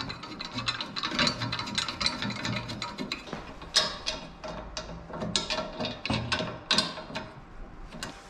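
Metal lift bar being screwed onto a Westinghouse WGEN12000DF generator with a hand tool, giving close, irregular ratcheting clicks and mechanical tapping in uneven bursts, with no voices.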